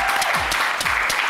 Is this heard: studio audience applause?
yes